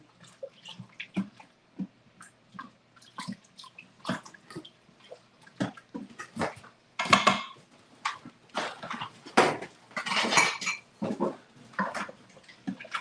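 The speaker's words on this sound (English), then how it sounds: "I'm scraping up the bottom of my Instant Pot because it is sticking a little bit" Short scrapes of a wooden spoon against the bottom of an Instant Pot come one after another, close and irregular, with quieter gaps between strokes.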